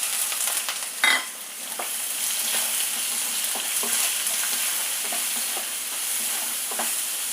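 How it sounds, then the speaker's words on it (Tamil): Two onions sautéing in a pan with mustard seeds, urad dal, curry leaves and a pinch of asafoetida give off a steady close sizzle, with a few scraping stirs and a sharper clink near the start. "வெங்காயம் வதங்கட்டும்."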